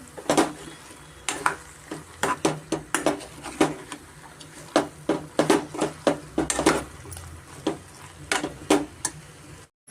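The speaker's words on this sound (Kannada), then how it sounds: "ದಂಟಿನ ಸೊಪ್ಪಿನ ದಂಟು ಮತ್ತು ನುಗ್ಗೆಕಾಯಿ ಆಲೂಗಡ್ಡೆ ಇಷ್ಟು ನಾವು ಚೆನ್ನಾಗಿ ಫ್ರೈ ಮಾಡ್ಕೊಳ್ಳೋಣ" Greens stems, drumstick and potato pieces are stir-fried in a pan for a soppina dantina curry, with frequent sharp spatula scrapes and clinks over a faint background sizzle.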